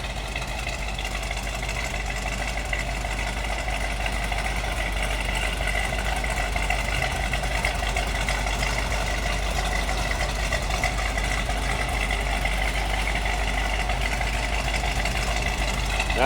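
A 1970 Plymouth 'Cuda two-door hardtop with a V8 idles steadily, a constant low rumble that holds at an even level throughout with no voices.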